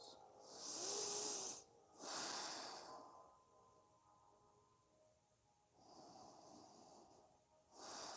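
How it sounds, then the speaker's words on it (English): Slow, deep breaths drawn in and pushed out through the nose during a yoga twist, four long airy hisses, close and fairly loud, with a quiet stretch between them. "Inhaling and exhaling through your nose."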